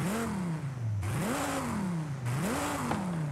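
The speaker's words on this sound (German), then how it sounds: "Das klingt auf jeden Fall nach einem Viper-Motor." A Dodge Viper V10 engine in Forza Horizon 5 revs up and drops back in two long rising and falling sweeps, loud and close, with no talk over it.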